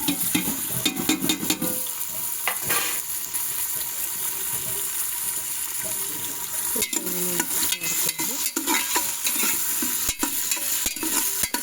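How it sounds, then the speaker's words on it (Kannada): Pulao spices, tomato and onion fry and sizzle in hot oil and are stirred steadily, with a continuous crackle and occasional scraping clinks close by. "ಎಣ್ಣೆ ಕಾದ್ಮೇಲೆ ಪಲಾವ್ ಐಟಮ್ಸ್ಗಳನ್ನೆಲ್ಲ ನಾನು ಹಾಕ್ತಿದ್ದೀನಿ. ಪಲಾವ್ ಐಟಮ್ಸ್ಗಳು ಆಮೇಲೆ ಟೊಮೊಟೊ ಈರುಳ್ಳಿನೂ ಹಾಕ್ತಿದ್ದೀನಿ."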